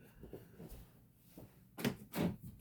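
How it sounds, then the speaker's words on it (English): A door is pushed shut indoors early in the morning, with a few soft bumps leading to two louder thuds near the end in an otherwise quiet room. "I gotta shut the door"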